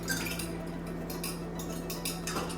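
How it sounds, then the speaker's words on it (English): A spoon clinks and scrapes around a bowl while a mixture for gluten-free bread is stirred, quick repeated taps over a low steady hum, with no talking. "I'm just stirring that up."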